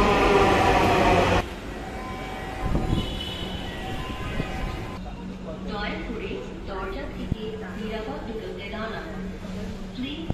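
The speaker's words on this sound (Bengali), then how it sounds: "ট্রেন চলে এসেছে, একটা অন্যরকম অনুভূতি কাজ করছে।" Dhaka Metro Rail train pulling into a station: a loud rumble that cuts off, then quieter rolling and squealing rail noise with a brief chime, while people talk nearby.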